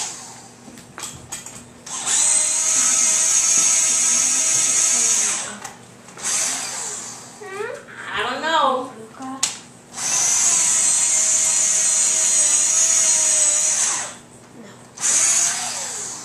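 Power drill boring into an apartment wall, in two long whining bursts of several seconds each with short stops between, and someone speaking briefly in the gap.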